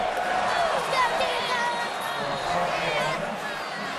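Large stadium crowd at an LSU football game in Baton Rouge, a broad, steady roar with scattered cheers and whoops, heard under a commentator's voice.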